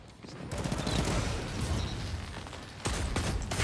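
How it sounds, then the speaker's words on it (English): The Lord of Wolves shotgun fires in the Destiny 2 video game during player-versus-player combat, a dense rapid burst of loud blasts close by that runs almost continuously, then a fresh volley near the end. "Shotgun."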